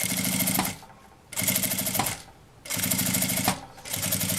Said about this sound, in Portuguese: a gente vai continuar a costura aqui retinha